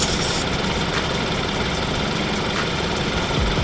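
Portable car air compressor inflating a tire runs with a continuous close, loud mechanical drone and buzzing rattle that holds steady throughout.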